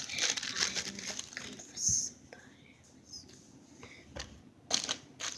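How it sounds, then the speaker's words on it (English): Plastic bags from an Amazon squishy toy package crinkle and rustle in close, intermittent bursts, with soft crackles and a couple of sharper crumples, heard alone at low level. "Oh, there's a lot of plastic bags here."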